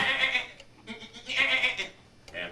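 A voice imitates a goat and a sheep, giving several nasal, wavering bleats in short bursts with brief pauses between them, loud and close.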